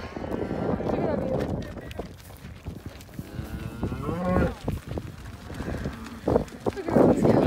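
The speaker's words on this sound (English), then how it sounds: "Look at all these cows." Cows mooing in a field near San Francisco, several loud drawn-out lowing calls close by, mixed with people chatting and footsteps or movement around the herd.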